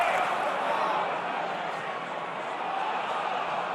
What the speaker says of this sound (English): Both sets of supporters applauding in memory of a true saint.